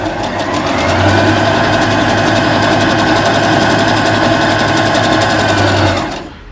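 A Brother JA20 sewing machine stitches piping onto fabric, its loud, close, steady rapid needle chatter and motor hum running continuously for about six seconds before stopping abruptly.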